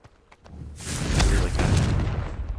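A Confringo spell explosion in the video game Hogwarts Legacy bursts after a few light clicks and swells into a deep rumbling boom that lingers for a couple of seconds.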